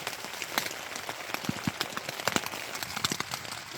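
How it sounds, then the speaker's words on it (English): Rain pattering on a tent at night, a dense, steady hiss of drops with scattered louder taps close by, continuous throughout. "It's raining."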